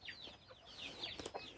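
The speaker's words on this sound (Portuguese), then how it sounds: "Olha aqui como é que tá aqui minhas galinhas, meus pintinhos." Hens and chicks on a small farm give faint, rapid clucks and high peeping cheeps, a busy continuous chatter with no voices over it.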